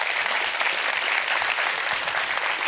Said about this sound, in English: Then let's give another big round of applause for Ian.